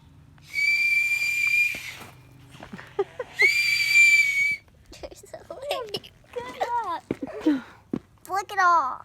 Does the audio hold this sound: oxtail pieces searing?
no